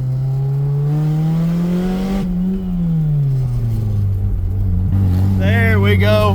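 A Honda CRX Si barn-find engine, seized and left sitting for over ten years, runs loudly up close after being put in gear, its drone rising and falling in pitch as the throttle varies, with a voice briefly heard near the end.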